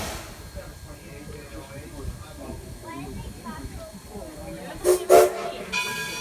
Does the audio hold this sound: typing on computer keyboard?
no